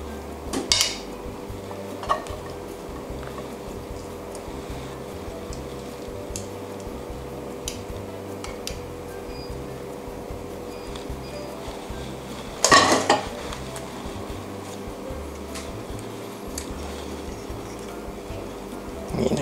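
Shrimp pad thai with egg and tofu being plated onto a dish, with soft utensil scrapes and light taps against the plate and one sharper clack partway through, no talking.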